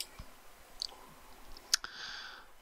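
A few sharp, distinct computer mouse clicks sound close by in a quiet room, with one louder click near the middle. The user is working in SketchUp.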